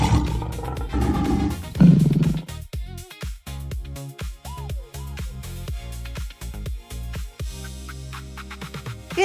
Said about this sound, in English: It's a lion.